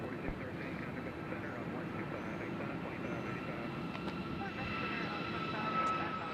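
A United airliner taking off at Nashville International Airport, its engines a steady, loud jet roar throughout, with a voice speaking over it.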